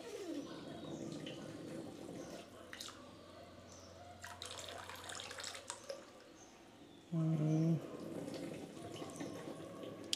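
Water drains out of a home fish tank during cleaning, trickling and splashing softly at close range, with a brief louder gush partway through.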